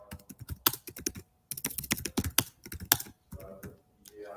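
Fingers type a zip code on a computer keyboard, a close run of quick irregular key clicks with a short pause midway and a few louder taps, with no voices.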